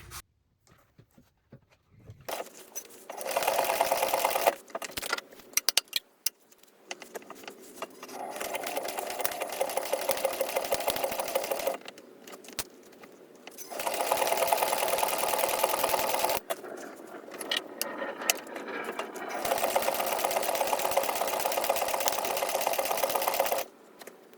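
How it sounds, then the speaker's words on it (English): A sewing machine top stitches across the top of a laptop bag, running in several long steady bursts separated by short pauses, close and fairly loud with no voices. "So now we're going to go ahead and top stitch all the way across the top here"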